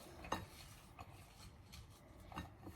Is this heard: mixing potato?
yes